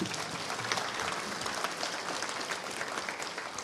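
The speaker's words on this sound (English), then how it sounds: "Another round of applause for Mrs. Ward." Sustained audience applause fills a congress hall during a World Congress session, a dense, steady wash of many hands clapping at moderate volume, continuous throughout with no talk over it.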